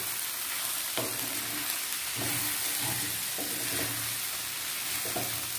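Sabudana pulao with mixed vegetables being stirred in a pan, a steady hiss of frying broken by several scraping stirs of the spoon at uneven intervals, close and continuous with no talk.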